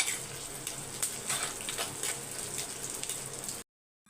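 Small onions sauté in a pan with chilli, curry leaves and garlic, giving a dense, crackling sizzle like patter on a surface that runs steadily, then stops abruptly.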